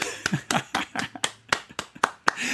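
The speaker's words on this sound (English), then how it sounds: "Round of applause for that." Someone claps their hands roughly ten times in a quick, slightly uneven rhythm, close and dry, with a faint voice murmuring underneath.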